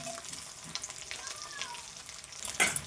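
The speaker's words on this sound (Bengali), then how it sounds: "এবার দেবো লঙ্কা বাটা আর টমেটো কুচি" Chili paste and chopped tomato frying for a snakehead fish curry give a steady close sizzle with light stirring, ending in a brief louder burst of spatter near the finish.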